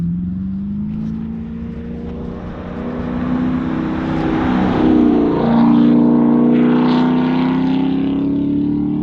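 A Chevrolet Camaro SS 1LE engine accelerates hard while the car takes turns, a loud, droning exhaust tone climbing and swelling in pitch as the revs rise, with no talking.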